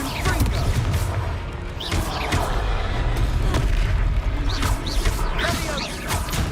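The Confringo explosive spell cast in the Hogwarts Legacy video game, a dense, booming barrage of blasts and crashing impacts that stays loud throughout, with game voices mixed in.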